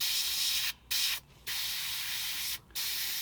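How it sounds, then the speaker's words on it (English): Airbrush spraying a very thin pigment wash onto a scale model, a soft steady hiss in several bursts separated by brief pauses, fairly quiet and close, with no talk. "So it's almost like spraying a wash on."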